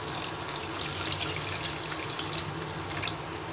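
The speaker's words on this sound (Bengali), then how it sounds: "আমাদের পেঁয়াজটা ভাজা হয়ে গেলে এবার আমরা অল্প পরিমাণ পানি দিয়ে দিব।" A little water goes into a pan of fried onions for a Bangladeshi chicken curry, making a steady rushing, hissing pour with small splashy peaks, close by and continuous for a few seconds, without speech.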